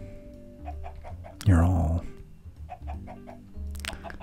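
Chickens cluck in a short burst in the Minecraft game, one loud flurry near the middle over a soft low background, with a person speaking quietly around it.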